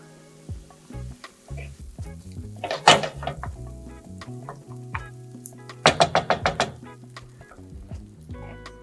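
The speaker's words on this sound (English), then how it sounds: "Just onions and garlic sauteing in olive oil" Onions and garlic sauté in olive oil for a mushroom risotto, sizzling softly under repeated spoon scrapes and clinks against the pan, with two louder bursts of stirring and no talking.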